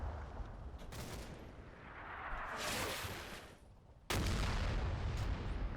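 Howitzer artillery fire in the Normandy war game Combat Mission: Battle for Normandy, a continuous rumbling barrage with a sudden loud boom near the end, then sustained heavy roar.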